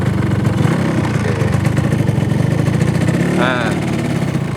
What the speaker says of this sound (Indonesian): Untuk dengar, untuk lihat enaknya kalau jalan santai pakai motor RX King.